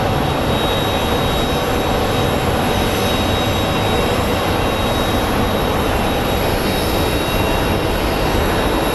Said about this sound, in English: we have American Airlines 194 lining up for departure for London. Operated by a 22-year-old Boeing 777